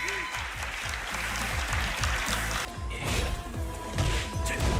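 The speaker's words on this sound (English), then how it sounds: "the crowd coming alive every time he makes contact" An esports crowd at the Tekken World Tour Global Finals erupts in loud, sustained cheering and applause, swelling in waves as hits land, with sharp impact-like bursts punctuating the roar.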